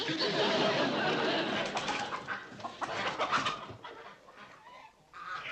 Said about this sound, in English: Betty Jo, there are chickens in the lobby.